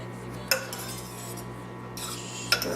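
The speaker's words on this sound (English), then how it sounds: "Stir that around." A utensil scrapes and clinks against a crock pot twice while stirring chili powder into barbacoa, short close knocks over a steady low hum.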